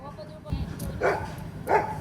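A dog gives two short, yappy barks about a second apart, close by, with a person's voice heard just before them.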